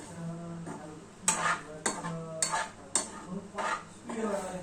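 Upma semolina being dry-roasted in a pan, with repeated metal spoon scrapes and clanks against the pan at an uneven rhythm, close and fairly loud, alongside faint low talk.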